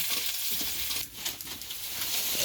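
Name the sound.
stirring onions frying in a pan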